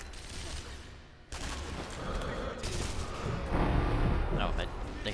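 In a Sniper Elite V2 firefight, heavy gunfire rattles in dense bursts, with booming impacts that build louder toward the end. A person talks over the shooting.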